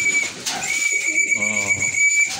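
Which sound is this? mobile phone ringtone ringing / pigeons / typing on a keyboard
pigeons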